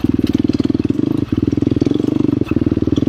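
A KTM 350 XCF Factory Edition dirt bike engine, rider off the throttle, chugs in a fast, even, close-up pulse, broken by two short gaps where the firing stutters.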